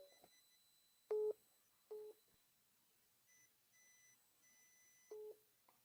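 A phone gives several short electronic beeps at uneven intervals, with fainter higher tones between them, in an otherwise quiet room.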